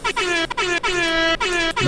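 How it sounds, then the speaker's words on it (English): Repeated MLG-style air horn blasts from a meme sound effect, loud, close and bright, with several sharp honks separated by short gaps, no talking heard. "Can you stop with the MLG air horn, dog?"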